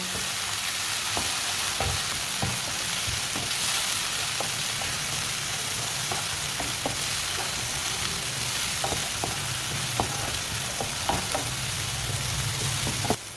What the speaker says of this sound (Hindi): टमाटर को भी 2 मिनट के लिए मैंने पका लिया है।